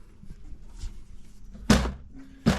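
A screen door on a 2007 Sunvalley Apache Eagle WS travel trailer swings shut with one loud slam, followed by a second thump near the end, with quiet room sound between.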